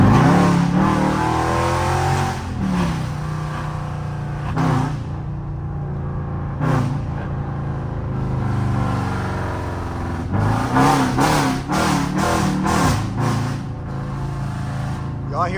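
A 5.7-litre Jeep engine fitted with a cold air intake revs hard and close, its roar swelling and dropping in repeated bursts, with voices at times under the engine noise.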